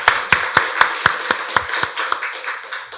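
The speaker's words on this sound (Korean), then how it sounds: "박수로 하나님께 영광 돌리겠습니다" A church congregation applauding at a Sunday worship service, a run of sharp claps in a brisk, even rhythm that loosens and fades toward the end, close and fairly loud.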